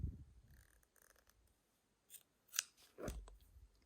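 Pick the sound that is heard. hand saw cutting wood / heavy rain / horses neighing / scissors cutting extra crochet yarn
scissors cutting extra crochet yarn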